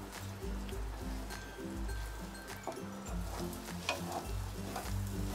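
Six beaten eggs cooked into bhurji in a pan, stirred throughout: a soft, continuous sizzle with gentle stirring, fairly quiet, with faint low humming tones beneath.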